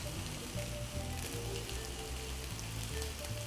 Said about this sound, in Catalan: el que ara farem serà afegir el pernil i les prunes que hem tallat